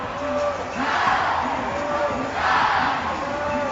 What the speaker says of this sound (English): You gotta love that cheer, Ben